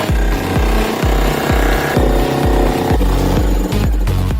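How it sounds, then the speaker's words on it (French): A jackhammer breaks into a wall, hammering in fast, loud, regular bursts close by with a brief stutter near the end, and no talking over it. "Enfin, un marteau-piqueur."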